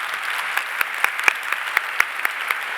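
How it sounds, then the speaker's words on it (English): Audience applause for panelists at a diamond industry panel, a soft continuous patter of many hands with a few sharper individual claps standing out. "I'd like to give our panelists a huge round of applause."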